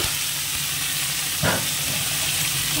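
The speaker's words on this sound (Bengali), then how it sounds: "কড়াইতে তেল দিয়ে দিচ্ছি, গরম হয়ে গেছে। তো আগে এটা একটু ভেজে তেল।" Food fries in hot oil in a wok, a constant close hiss and sizzle, with a sharper surge of spattering midway as something is stirred or added.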